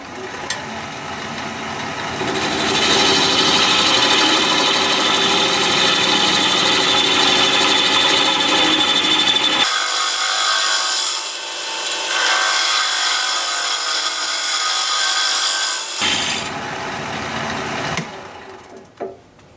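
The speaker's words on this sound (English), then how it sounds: "So I'm going to do that with a 1/2 inch bowl gouge. 750 RPM" A 1/2 inch bowl gouge scrapes and hisses against juniper wood spinning on a lathe at 750 RPM, a steady rasping cut with a motor humming underneath, pausing briefly midway.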